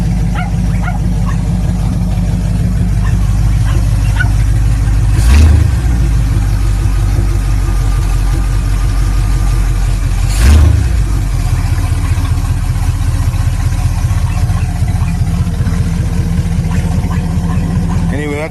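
A hot rod engine with an old school carburetor idles loudly in a steady low rumble, with two brief revs or bursts midway and a dog barking faintly in the background.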